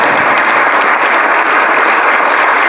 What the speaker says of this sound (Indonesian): Tepuk tangan untuk Pak Charles.